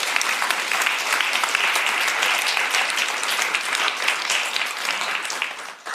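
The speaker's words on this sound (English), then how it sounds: "I think a huge round of applause." Full room of listeners applauding after a panel talk on conflict transformation and peacebuilding, a thick, even wash of clapping that holds steady for the whole stretch, close and loud with no voices.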